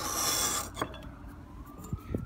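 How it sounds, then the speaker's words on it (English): Close rasping scrape of a chisel blade being sharpened against a stone, loud at first and then followed by a few lighter scrapes and clicks. "I believe I have now sharpened my chisel"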